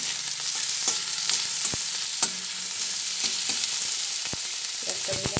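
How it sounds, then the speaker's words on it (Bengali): Onions frying in oil alongside dried red chillies, a steady close sizzle with scattered crackles and occasional stirring clicks, no voices. "পেঁয়াজ দেওয়ার পরে পেঁয়াজটা কিছুটা ভেজে নিচ্ছি।"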